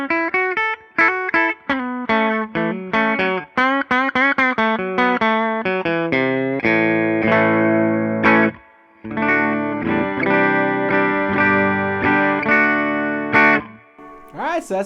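Electric guitar played through the bridge humbucker of a used Gibson Les Paul Studio, a quick run of plucked single notes and chords giving way to long ringing sustained chords, with clean tone, effects and a brief pause near the end.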